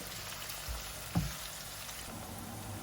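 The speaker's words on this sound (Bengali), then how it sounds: "আর দিয়েছি 3টা এলাচ, চর্বি এবং পেঁয়াজ, এগুলোকে ভালোভাবে নাড়তে হবে।" Cardamom pods, fat and onions frying in a pot for a mutton curry, a soft continuous sizzle with one brief knock of a spoon stirring, quiet and steady with no voices.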